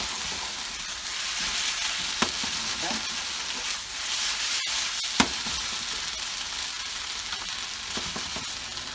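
Olive oil frying in a pan while a Spanish tortilla is prepared gives a steady, fairly loud sizzle throughout, broken by a couple of brief sharp clicks or knocks.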